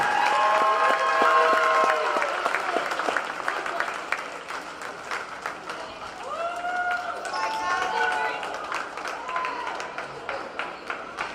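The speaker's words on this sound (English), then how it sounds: "One more round of applause for the regular season champion" A crowd applauds steadily, clapping and cheering in a large space at a college volleyball championship, the noise fading and swelling while an announcer's voice speaks over it.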